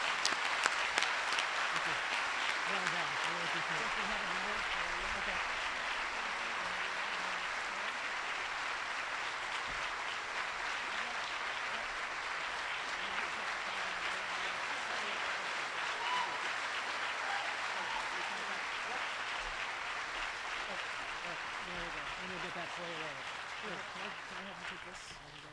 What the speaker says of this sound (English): Join me in a big round of applause.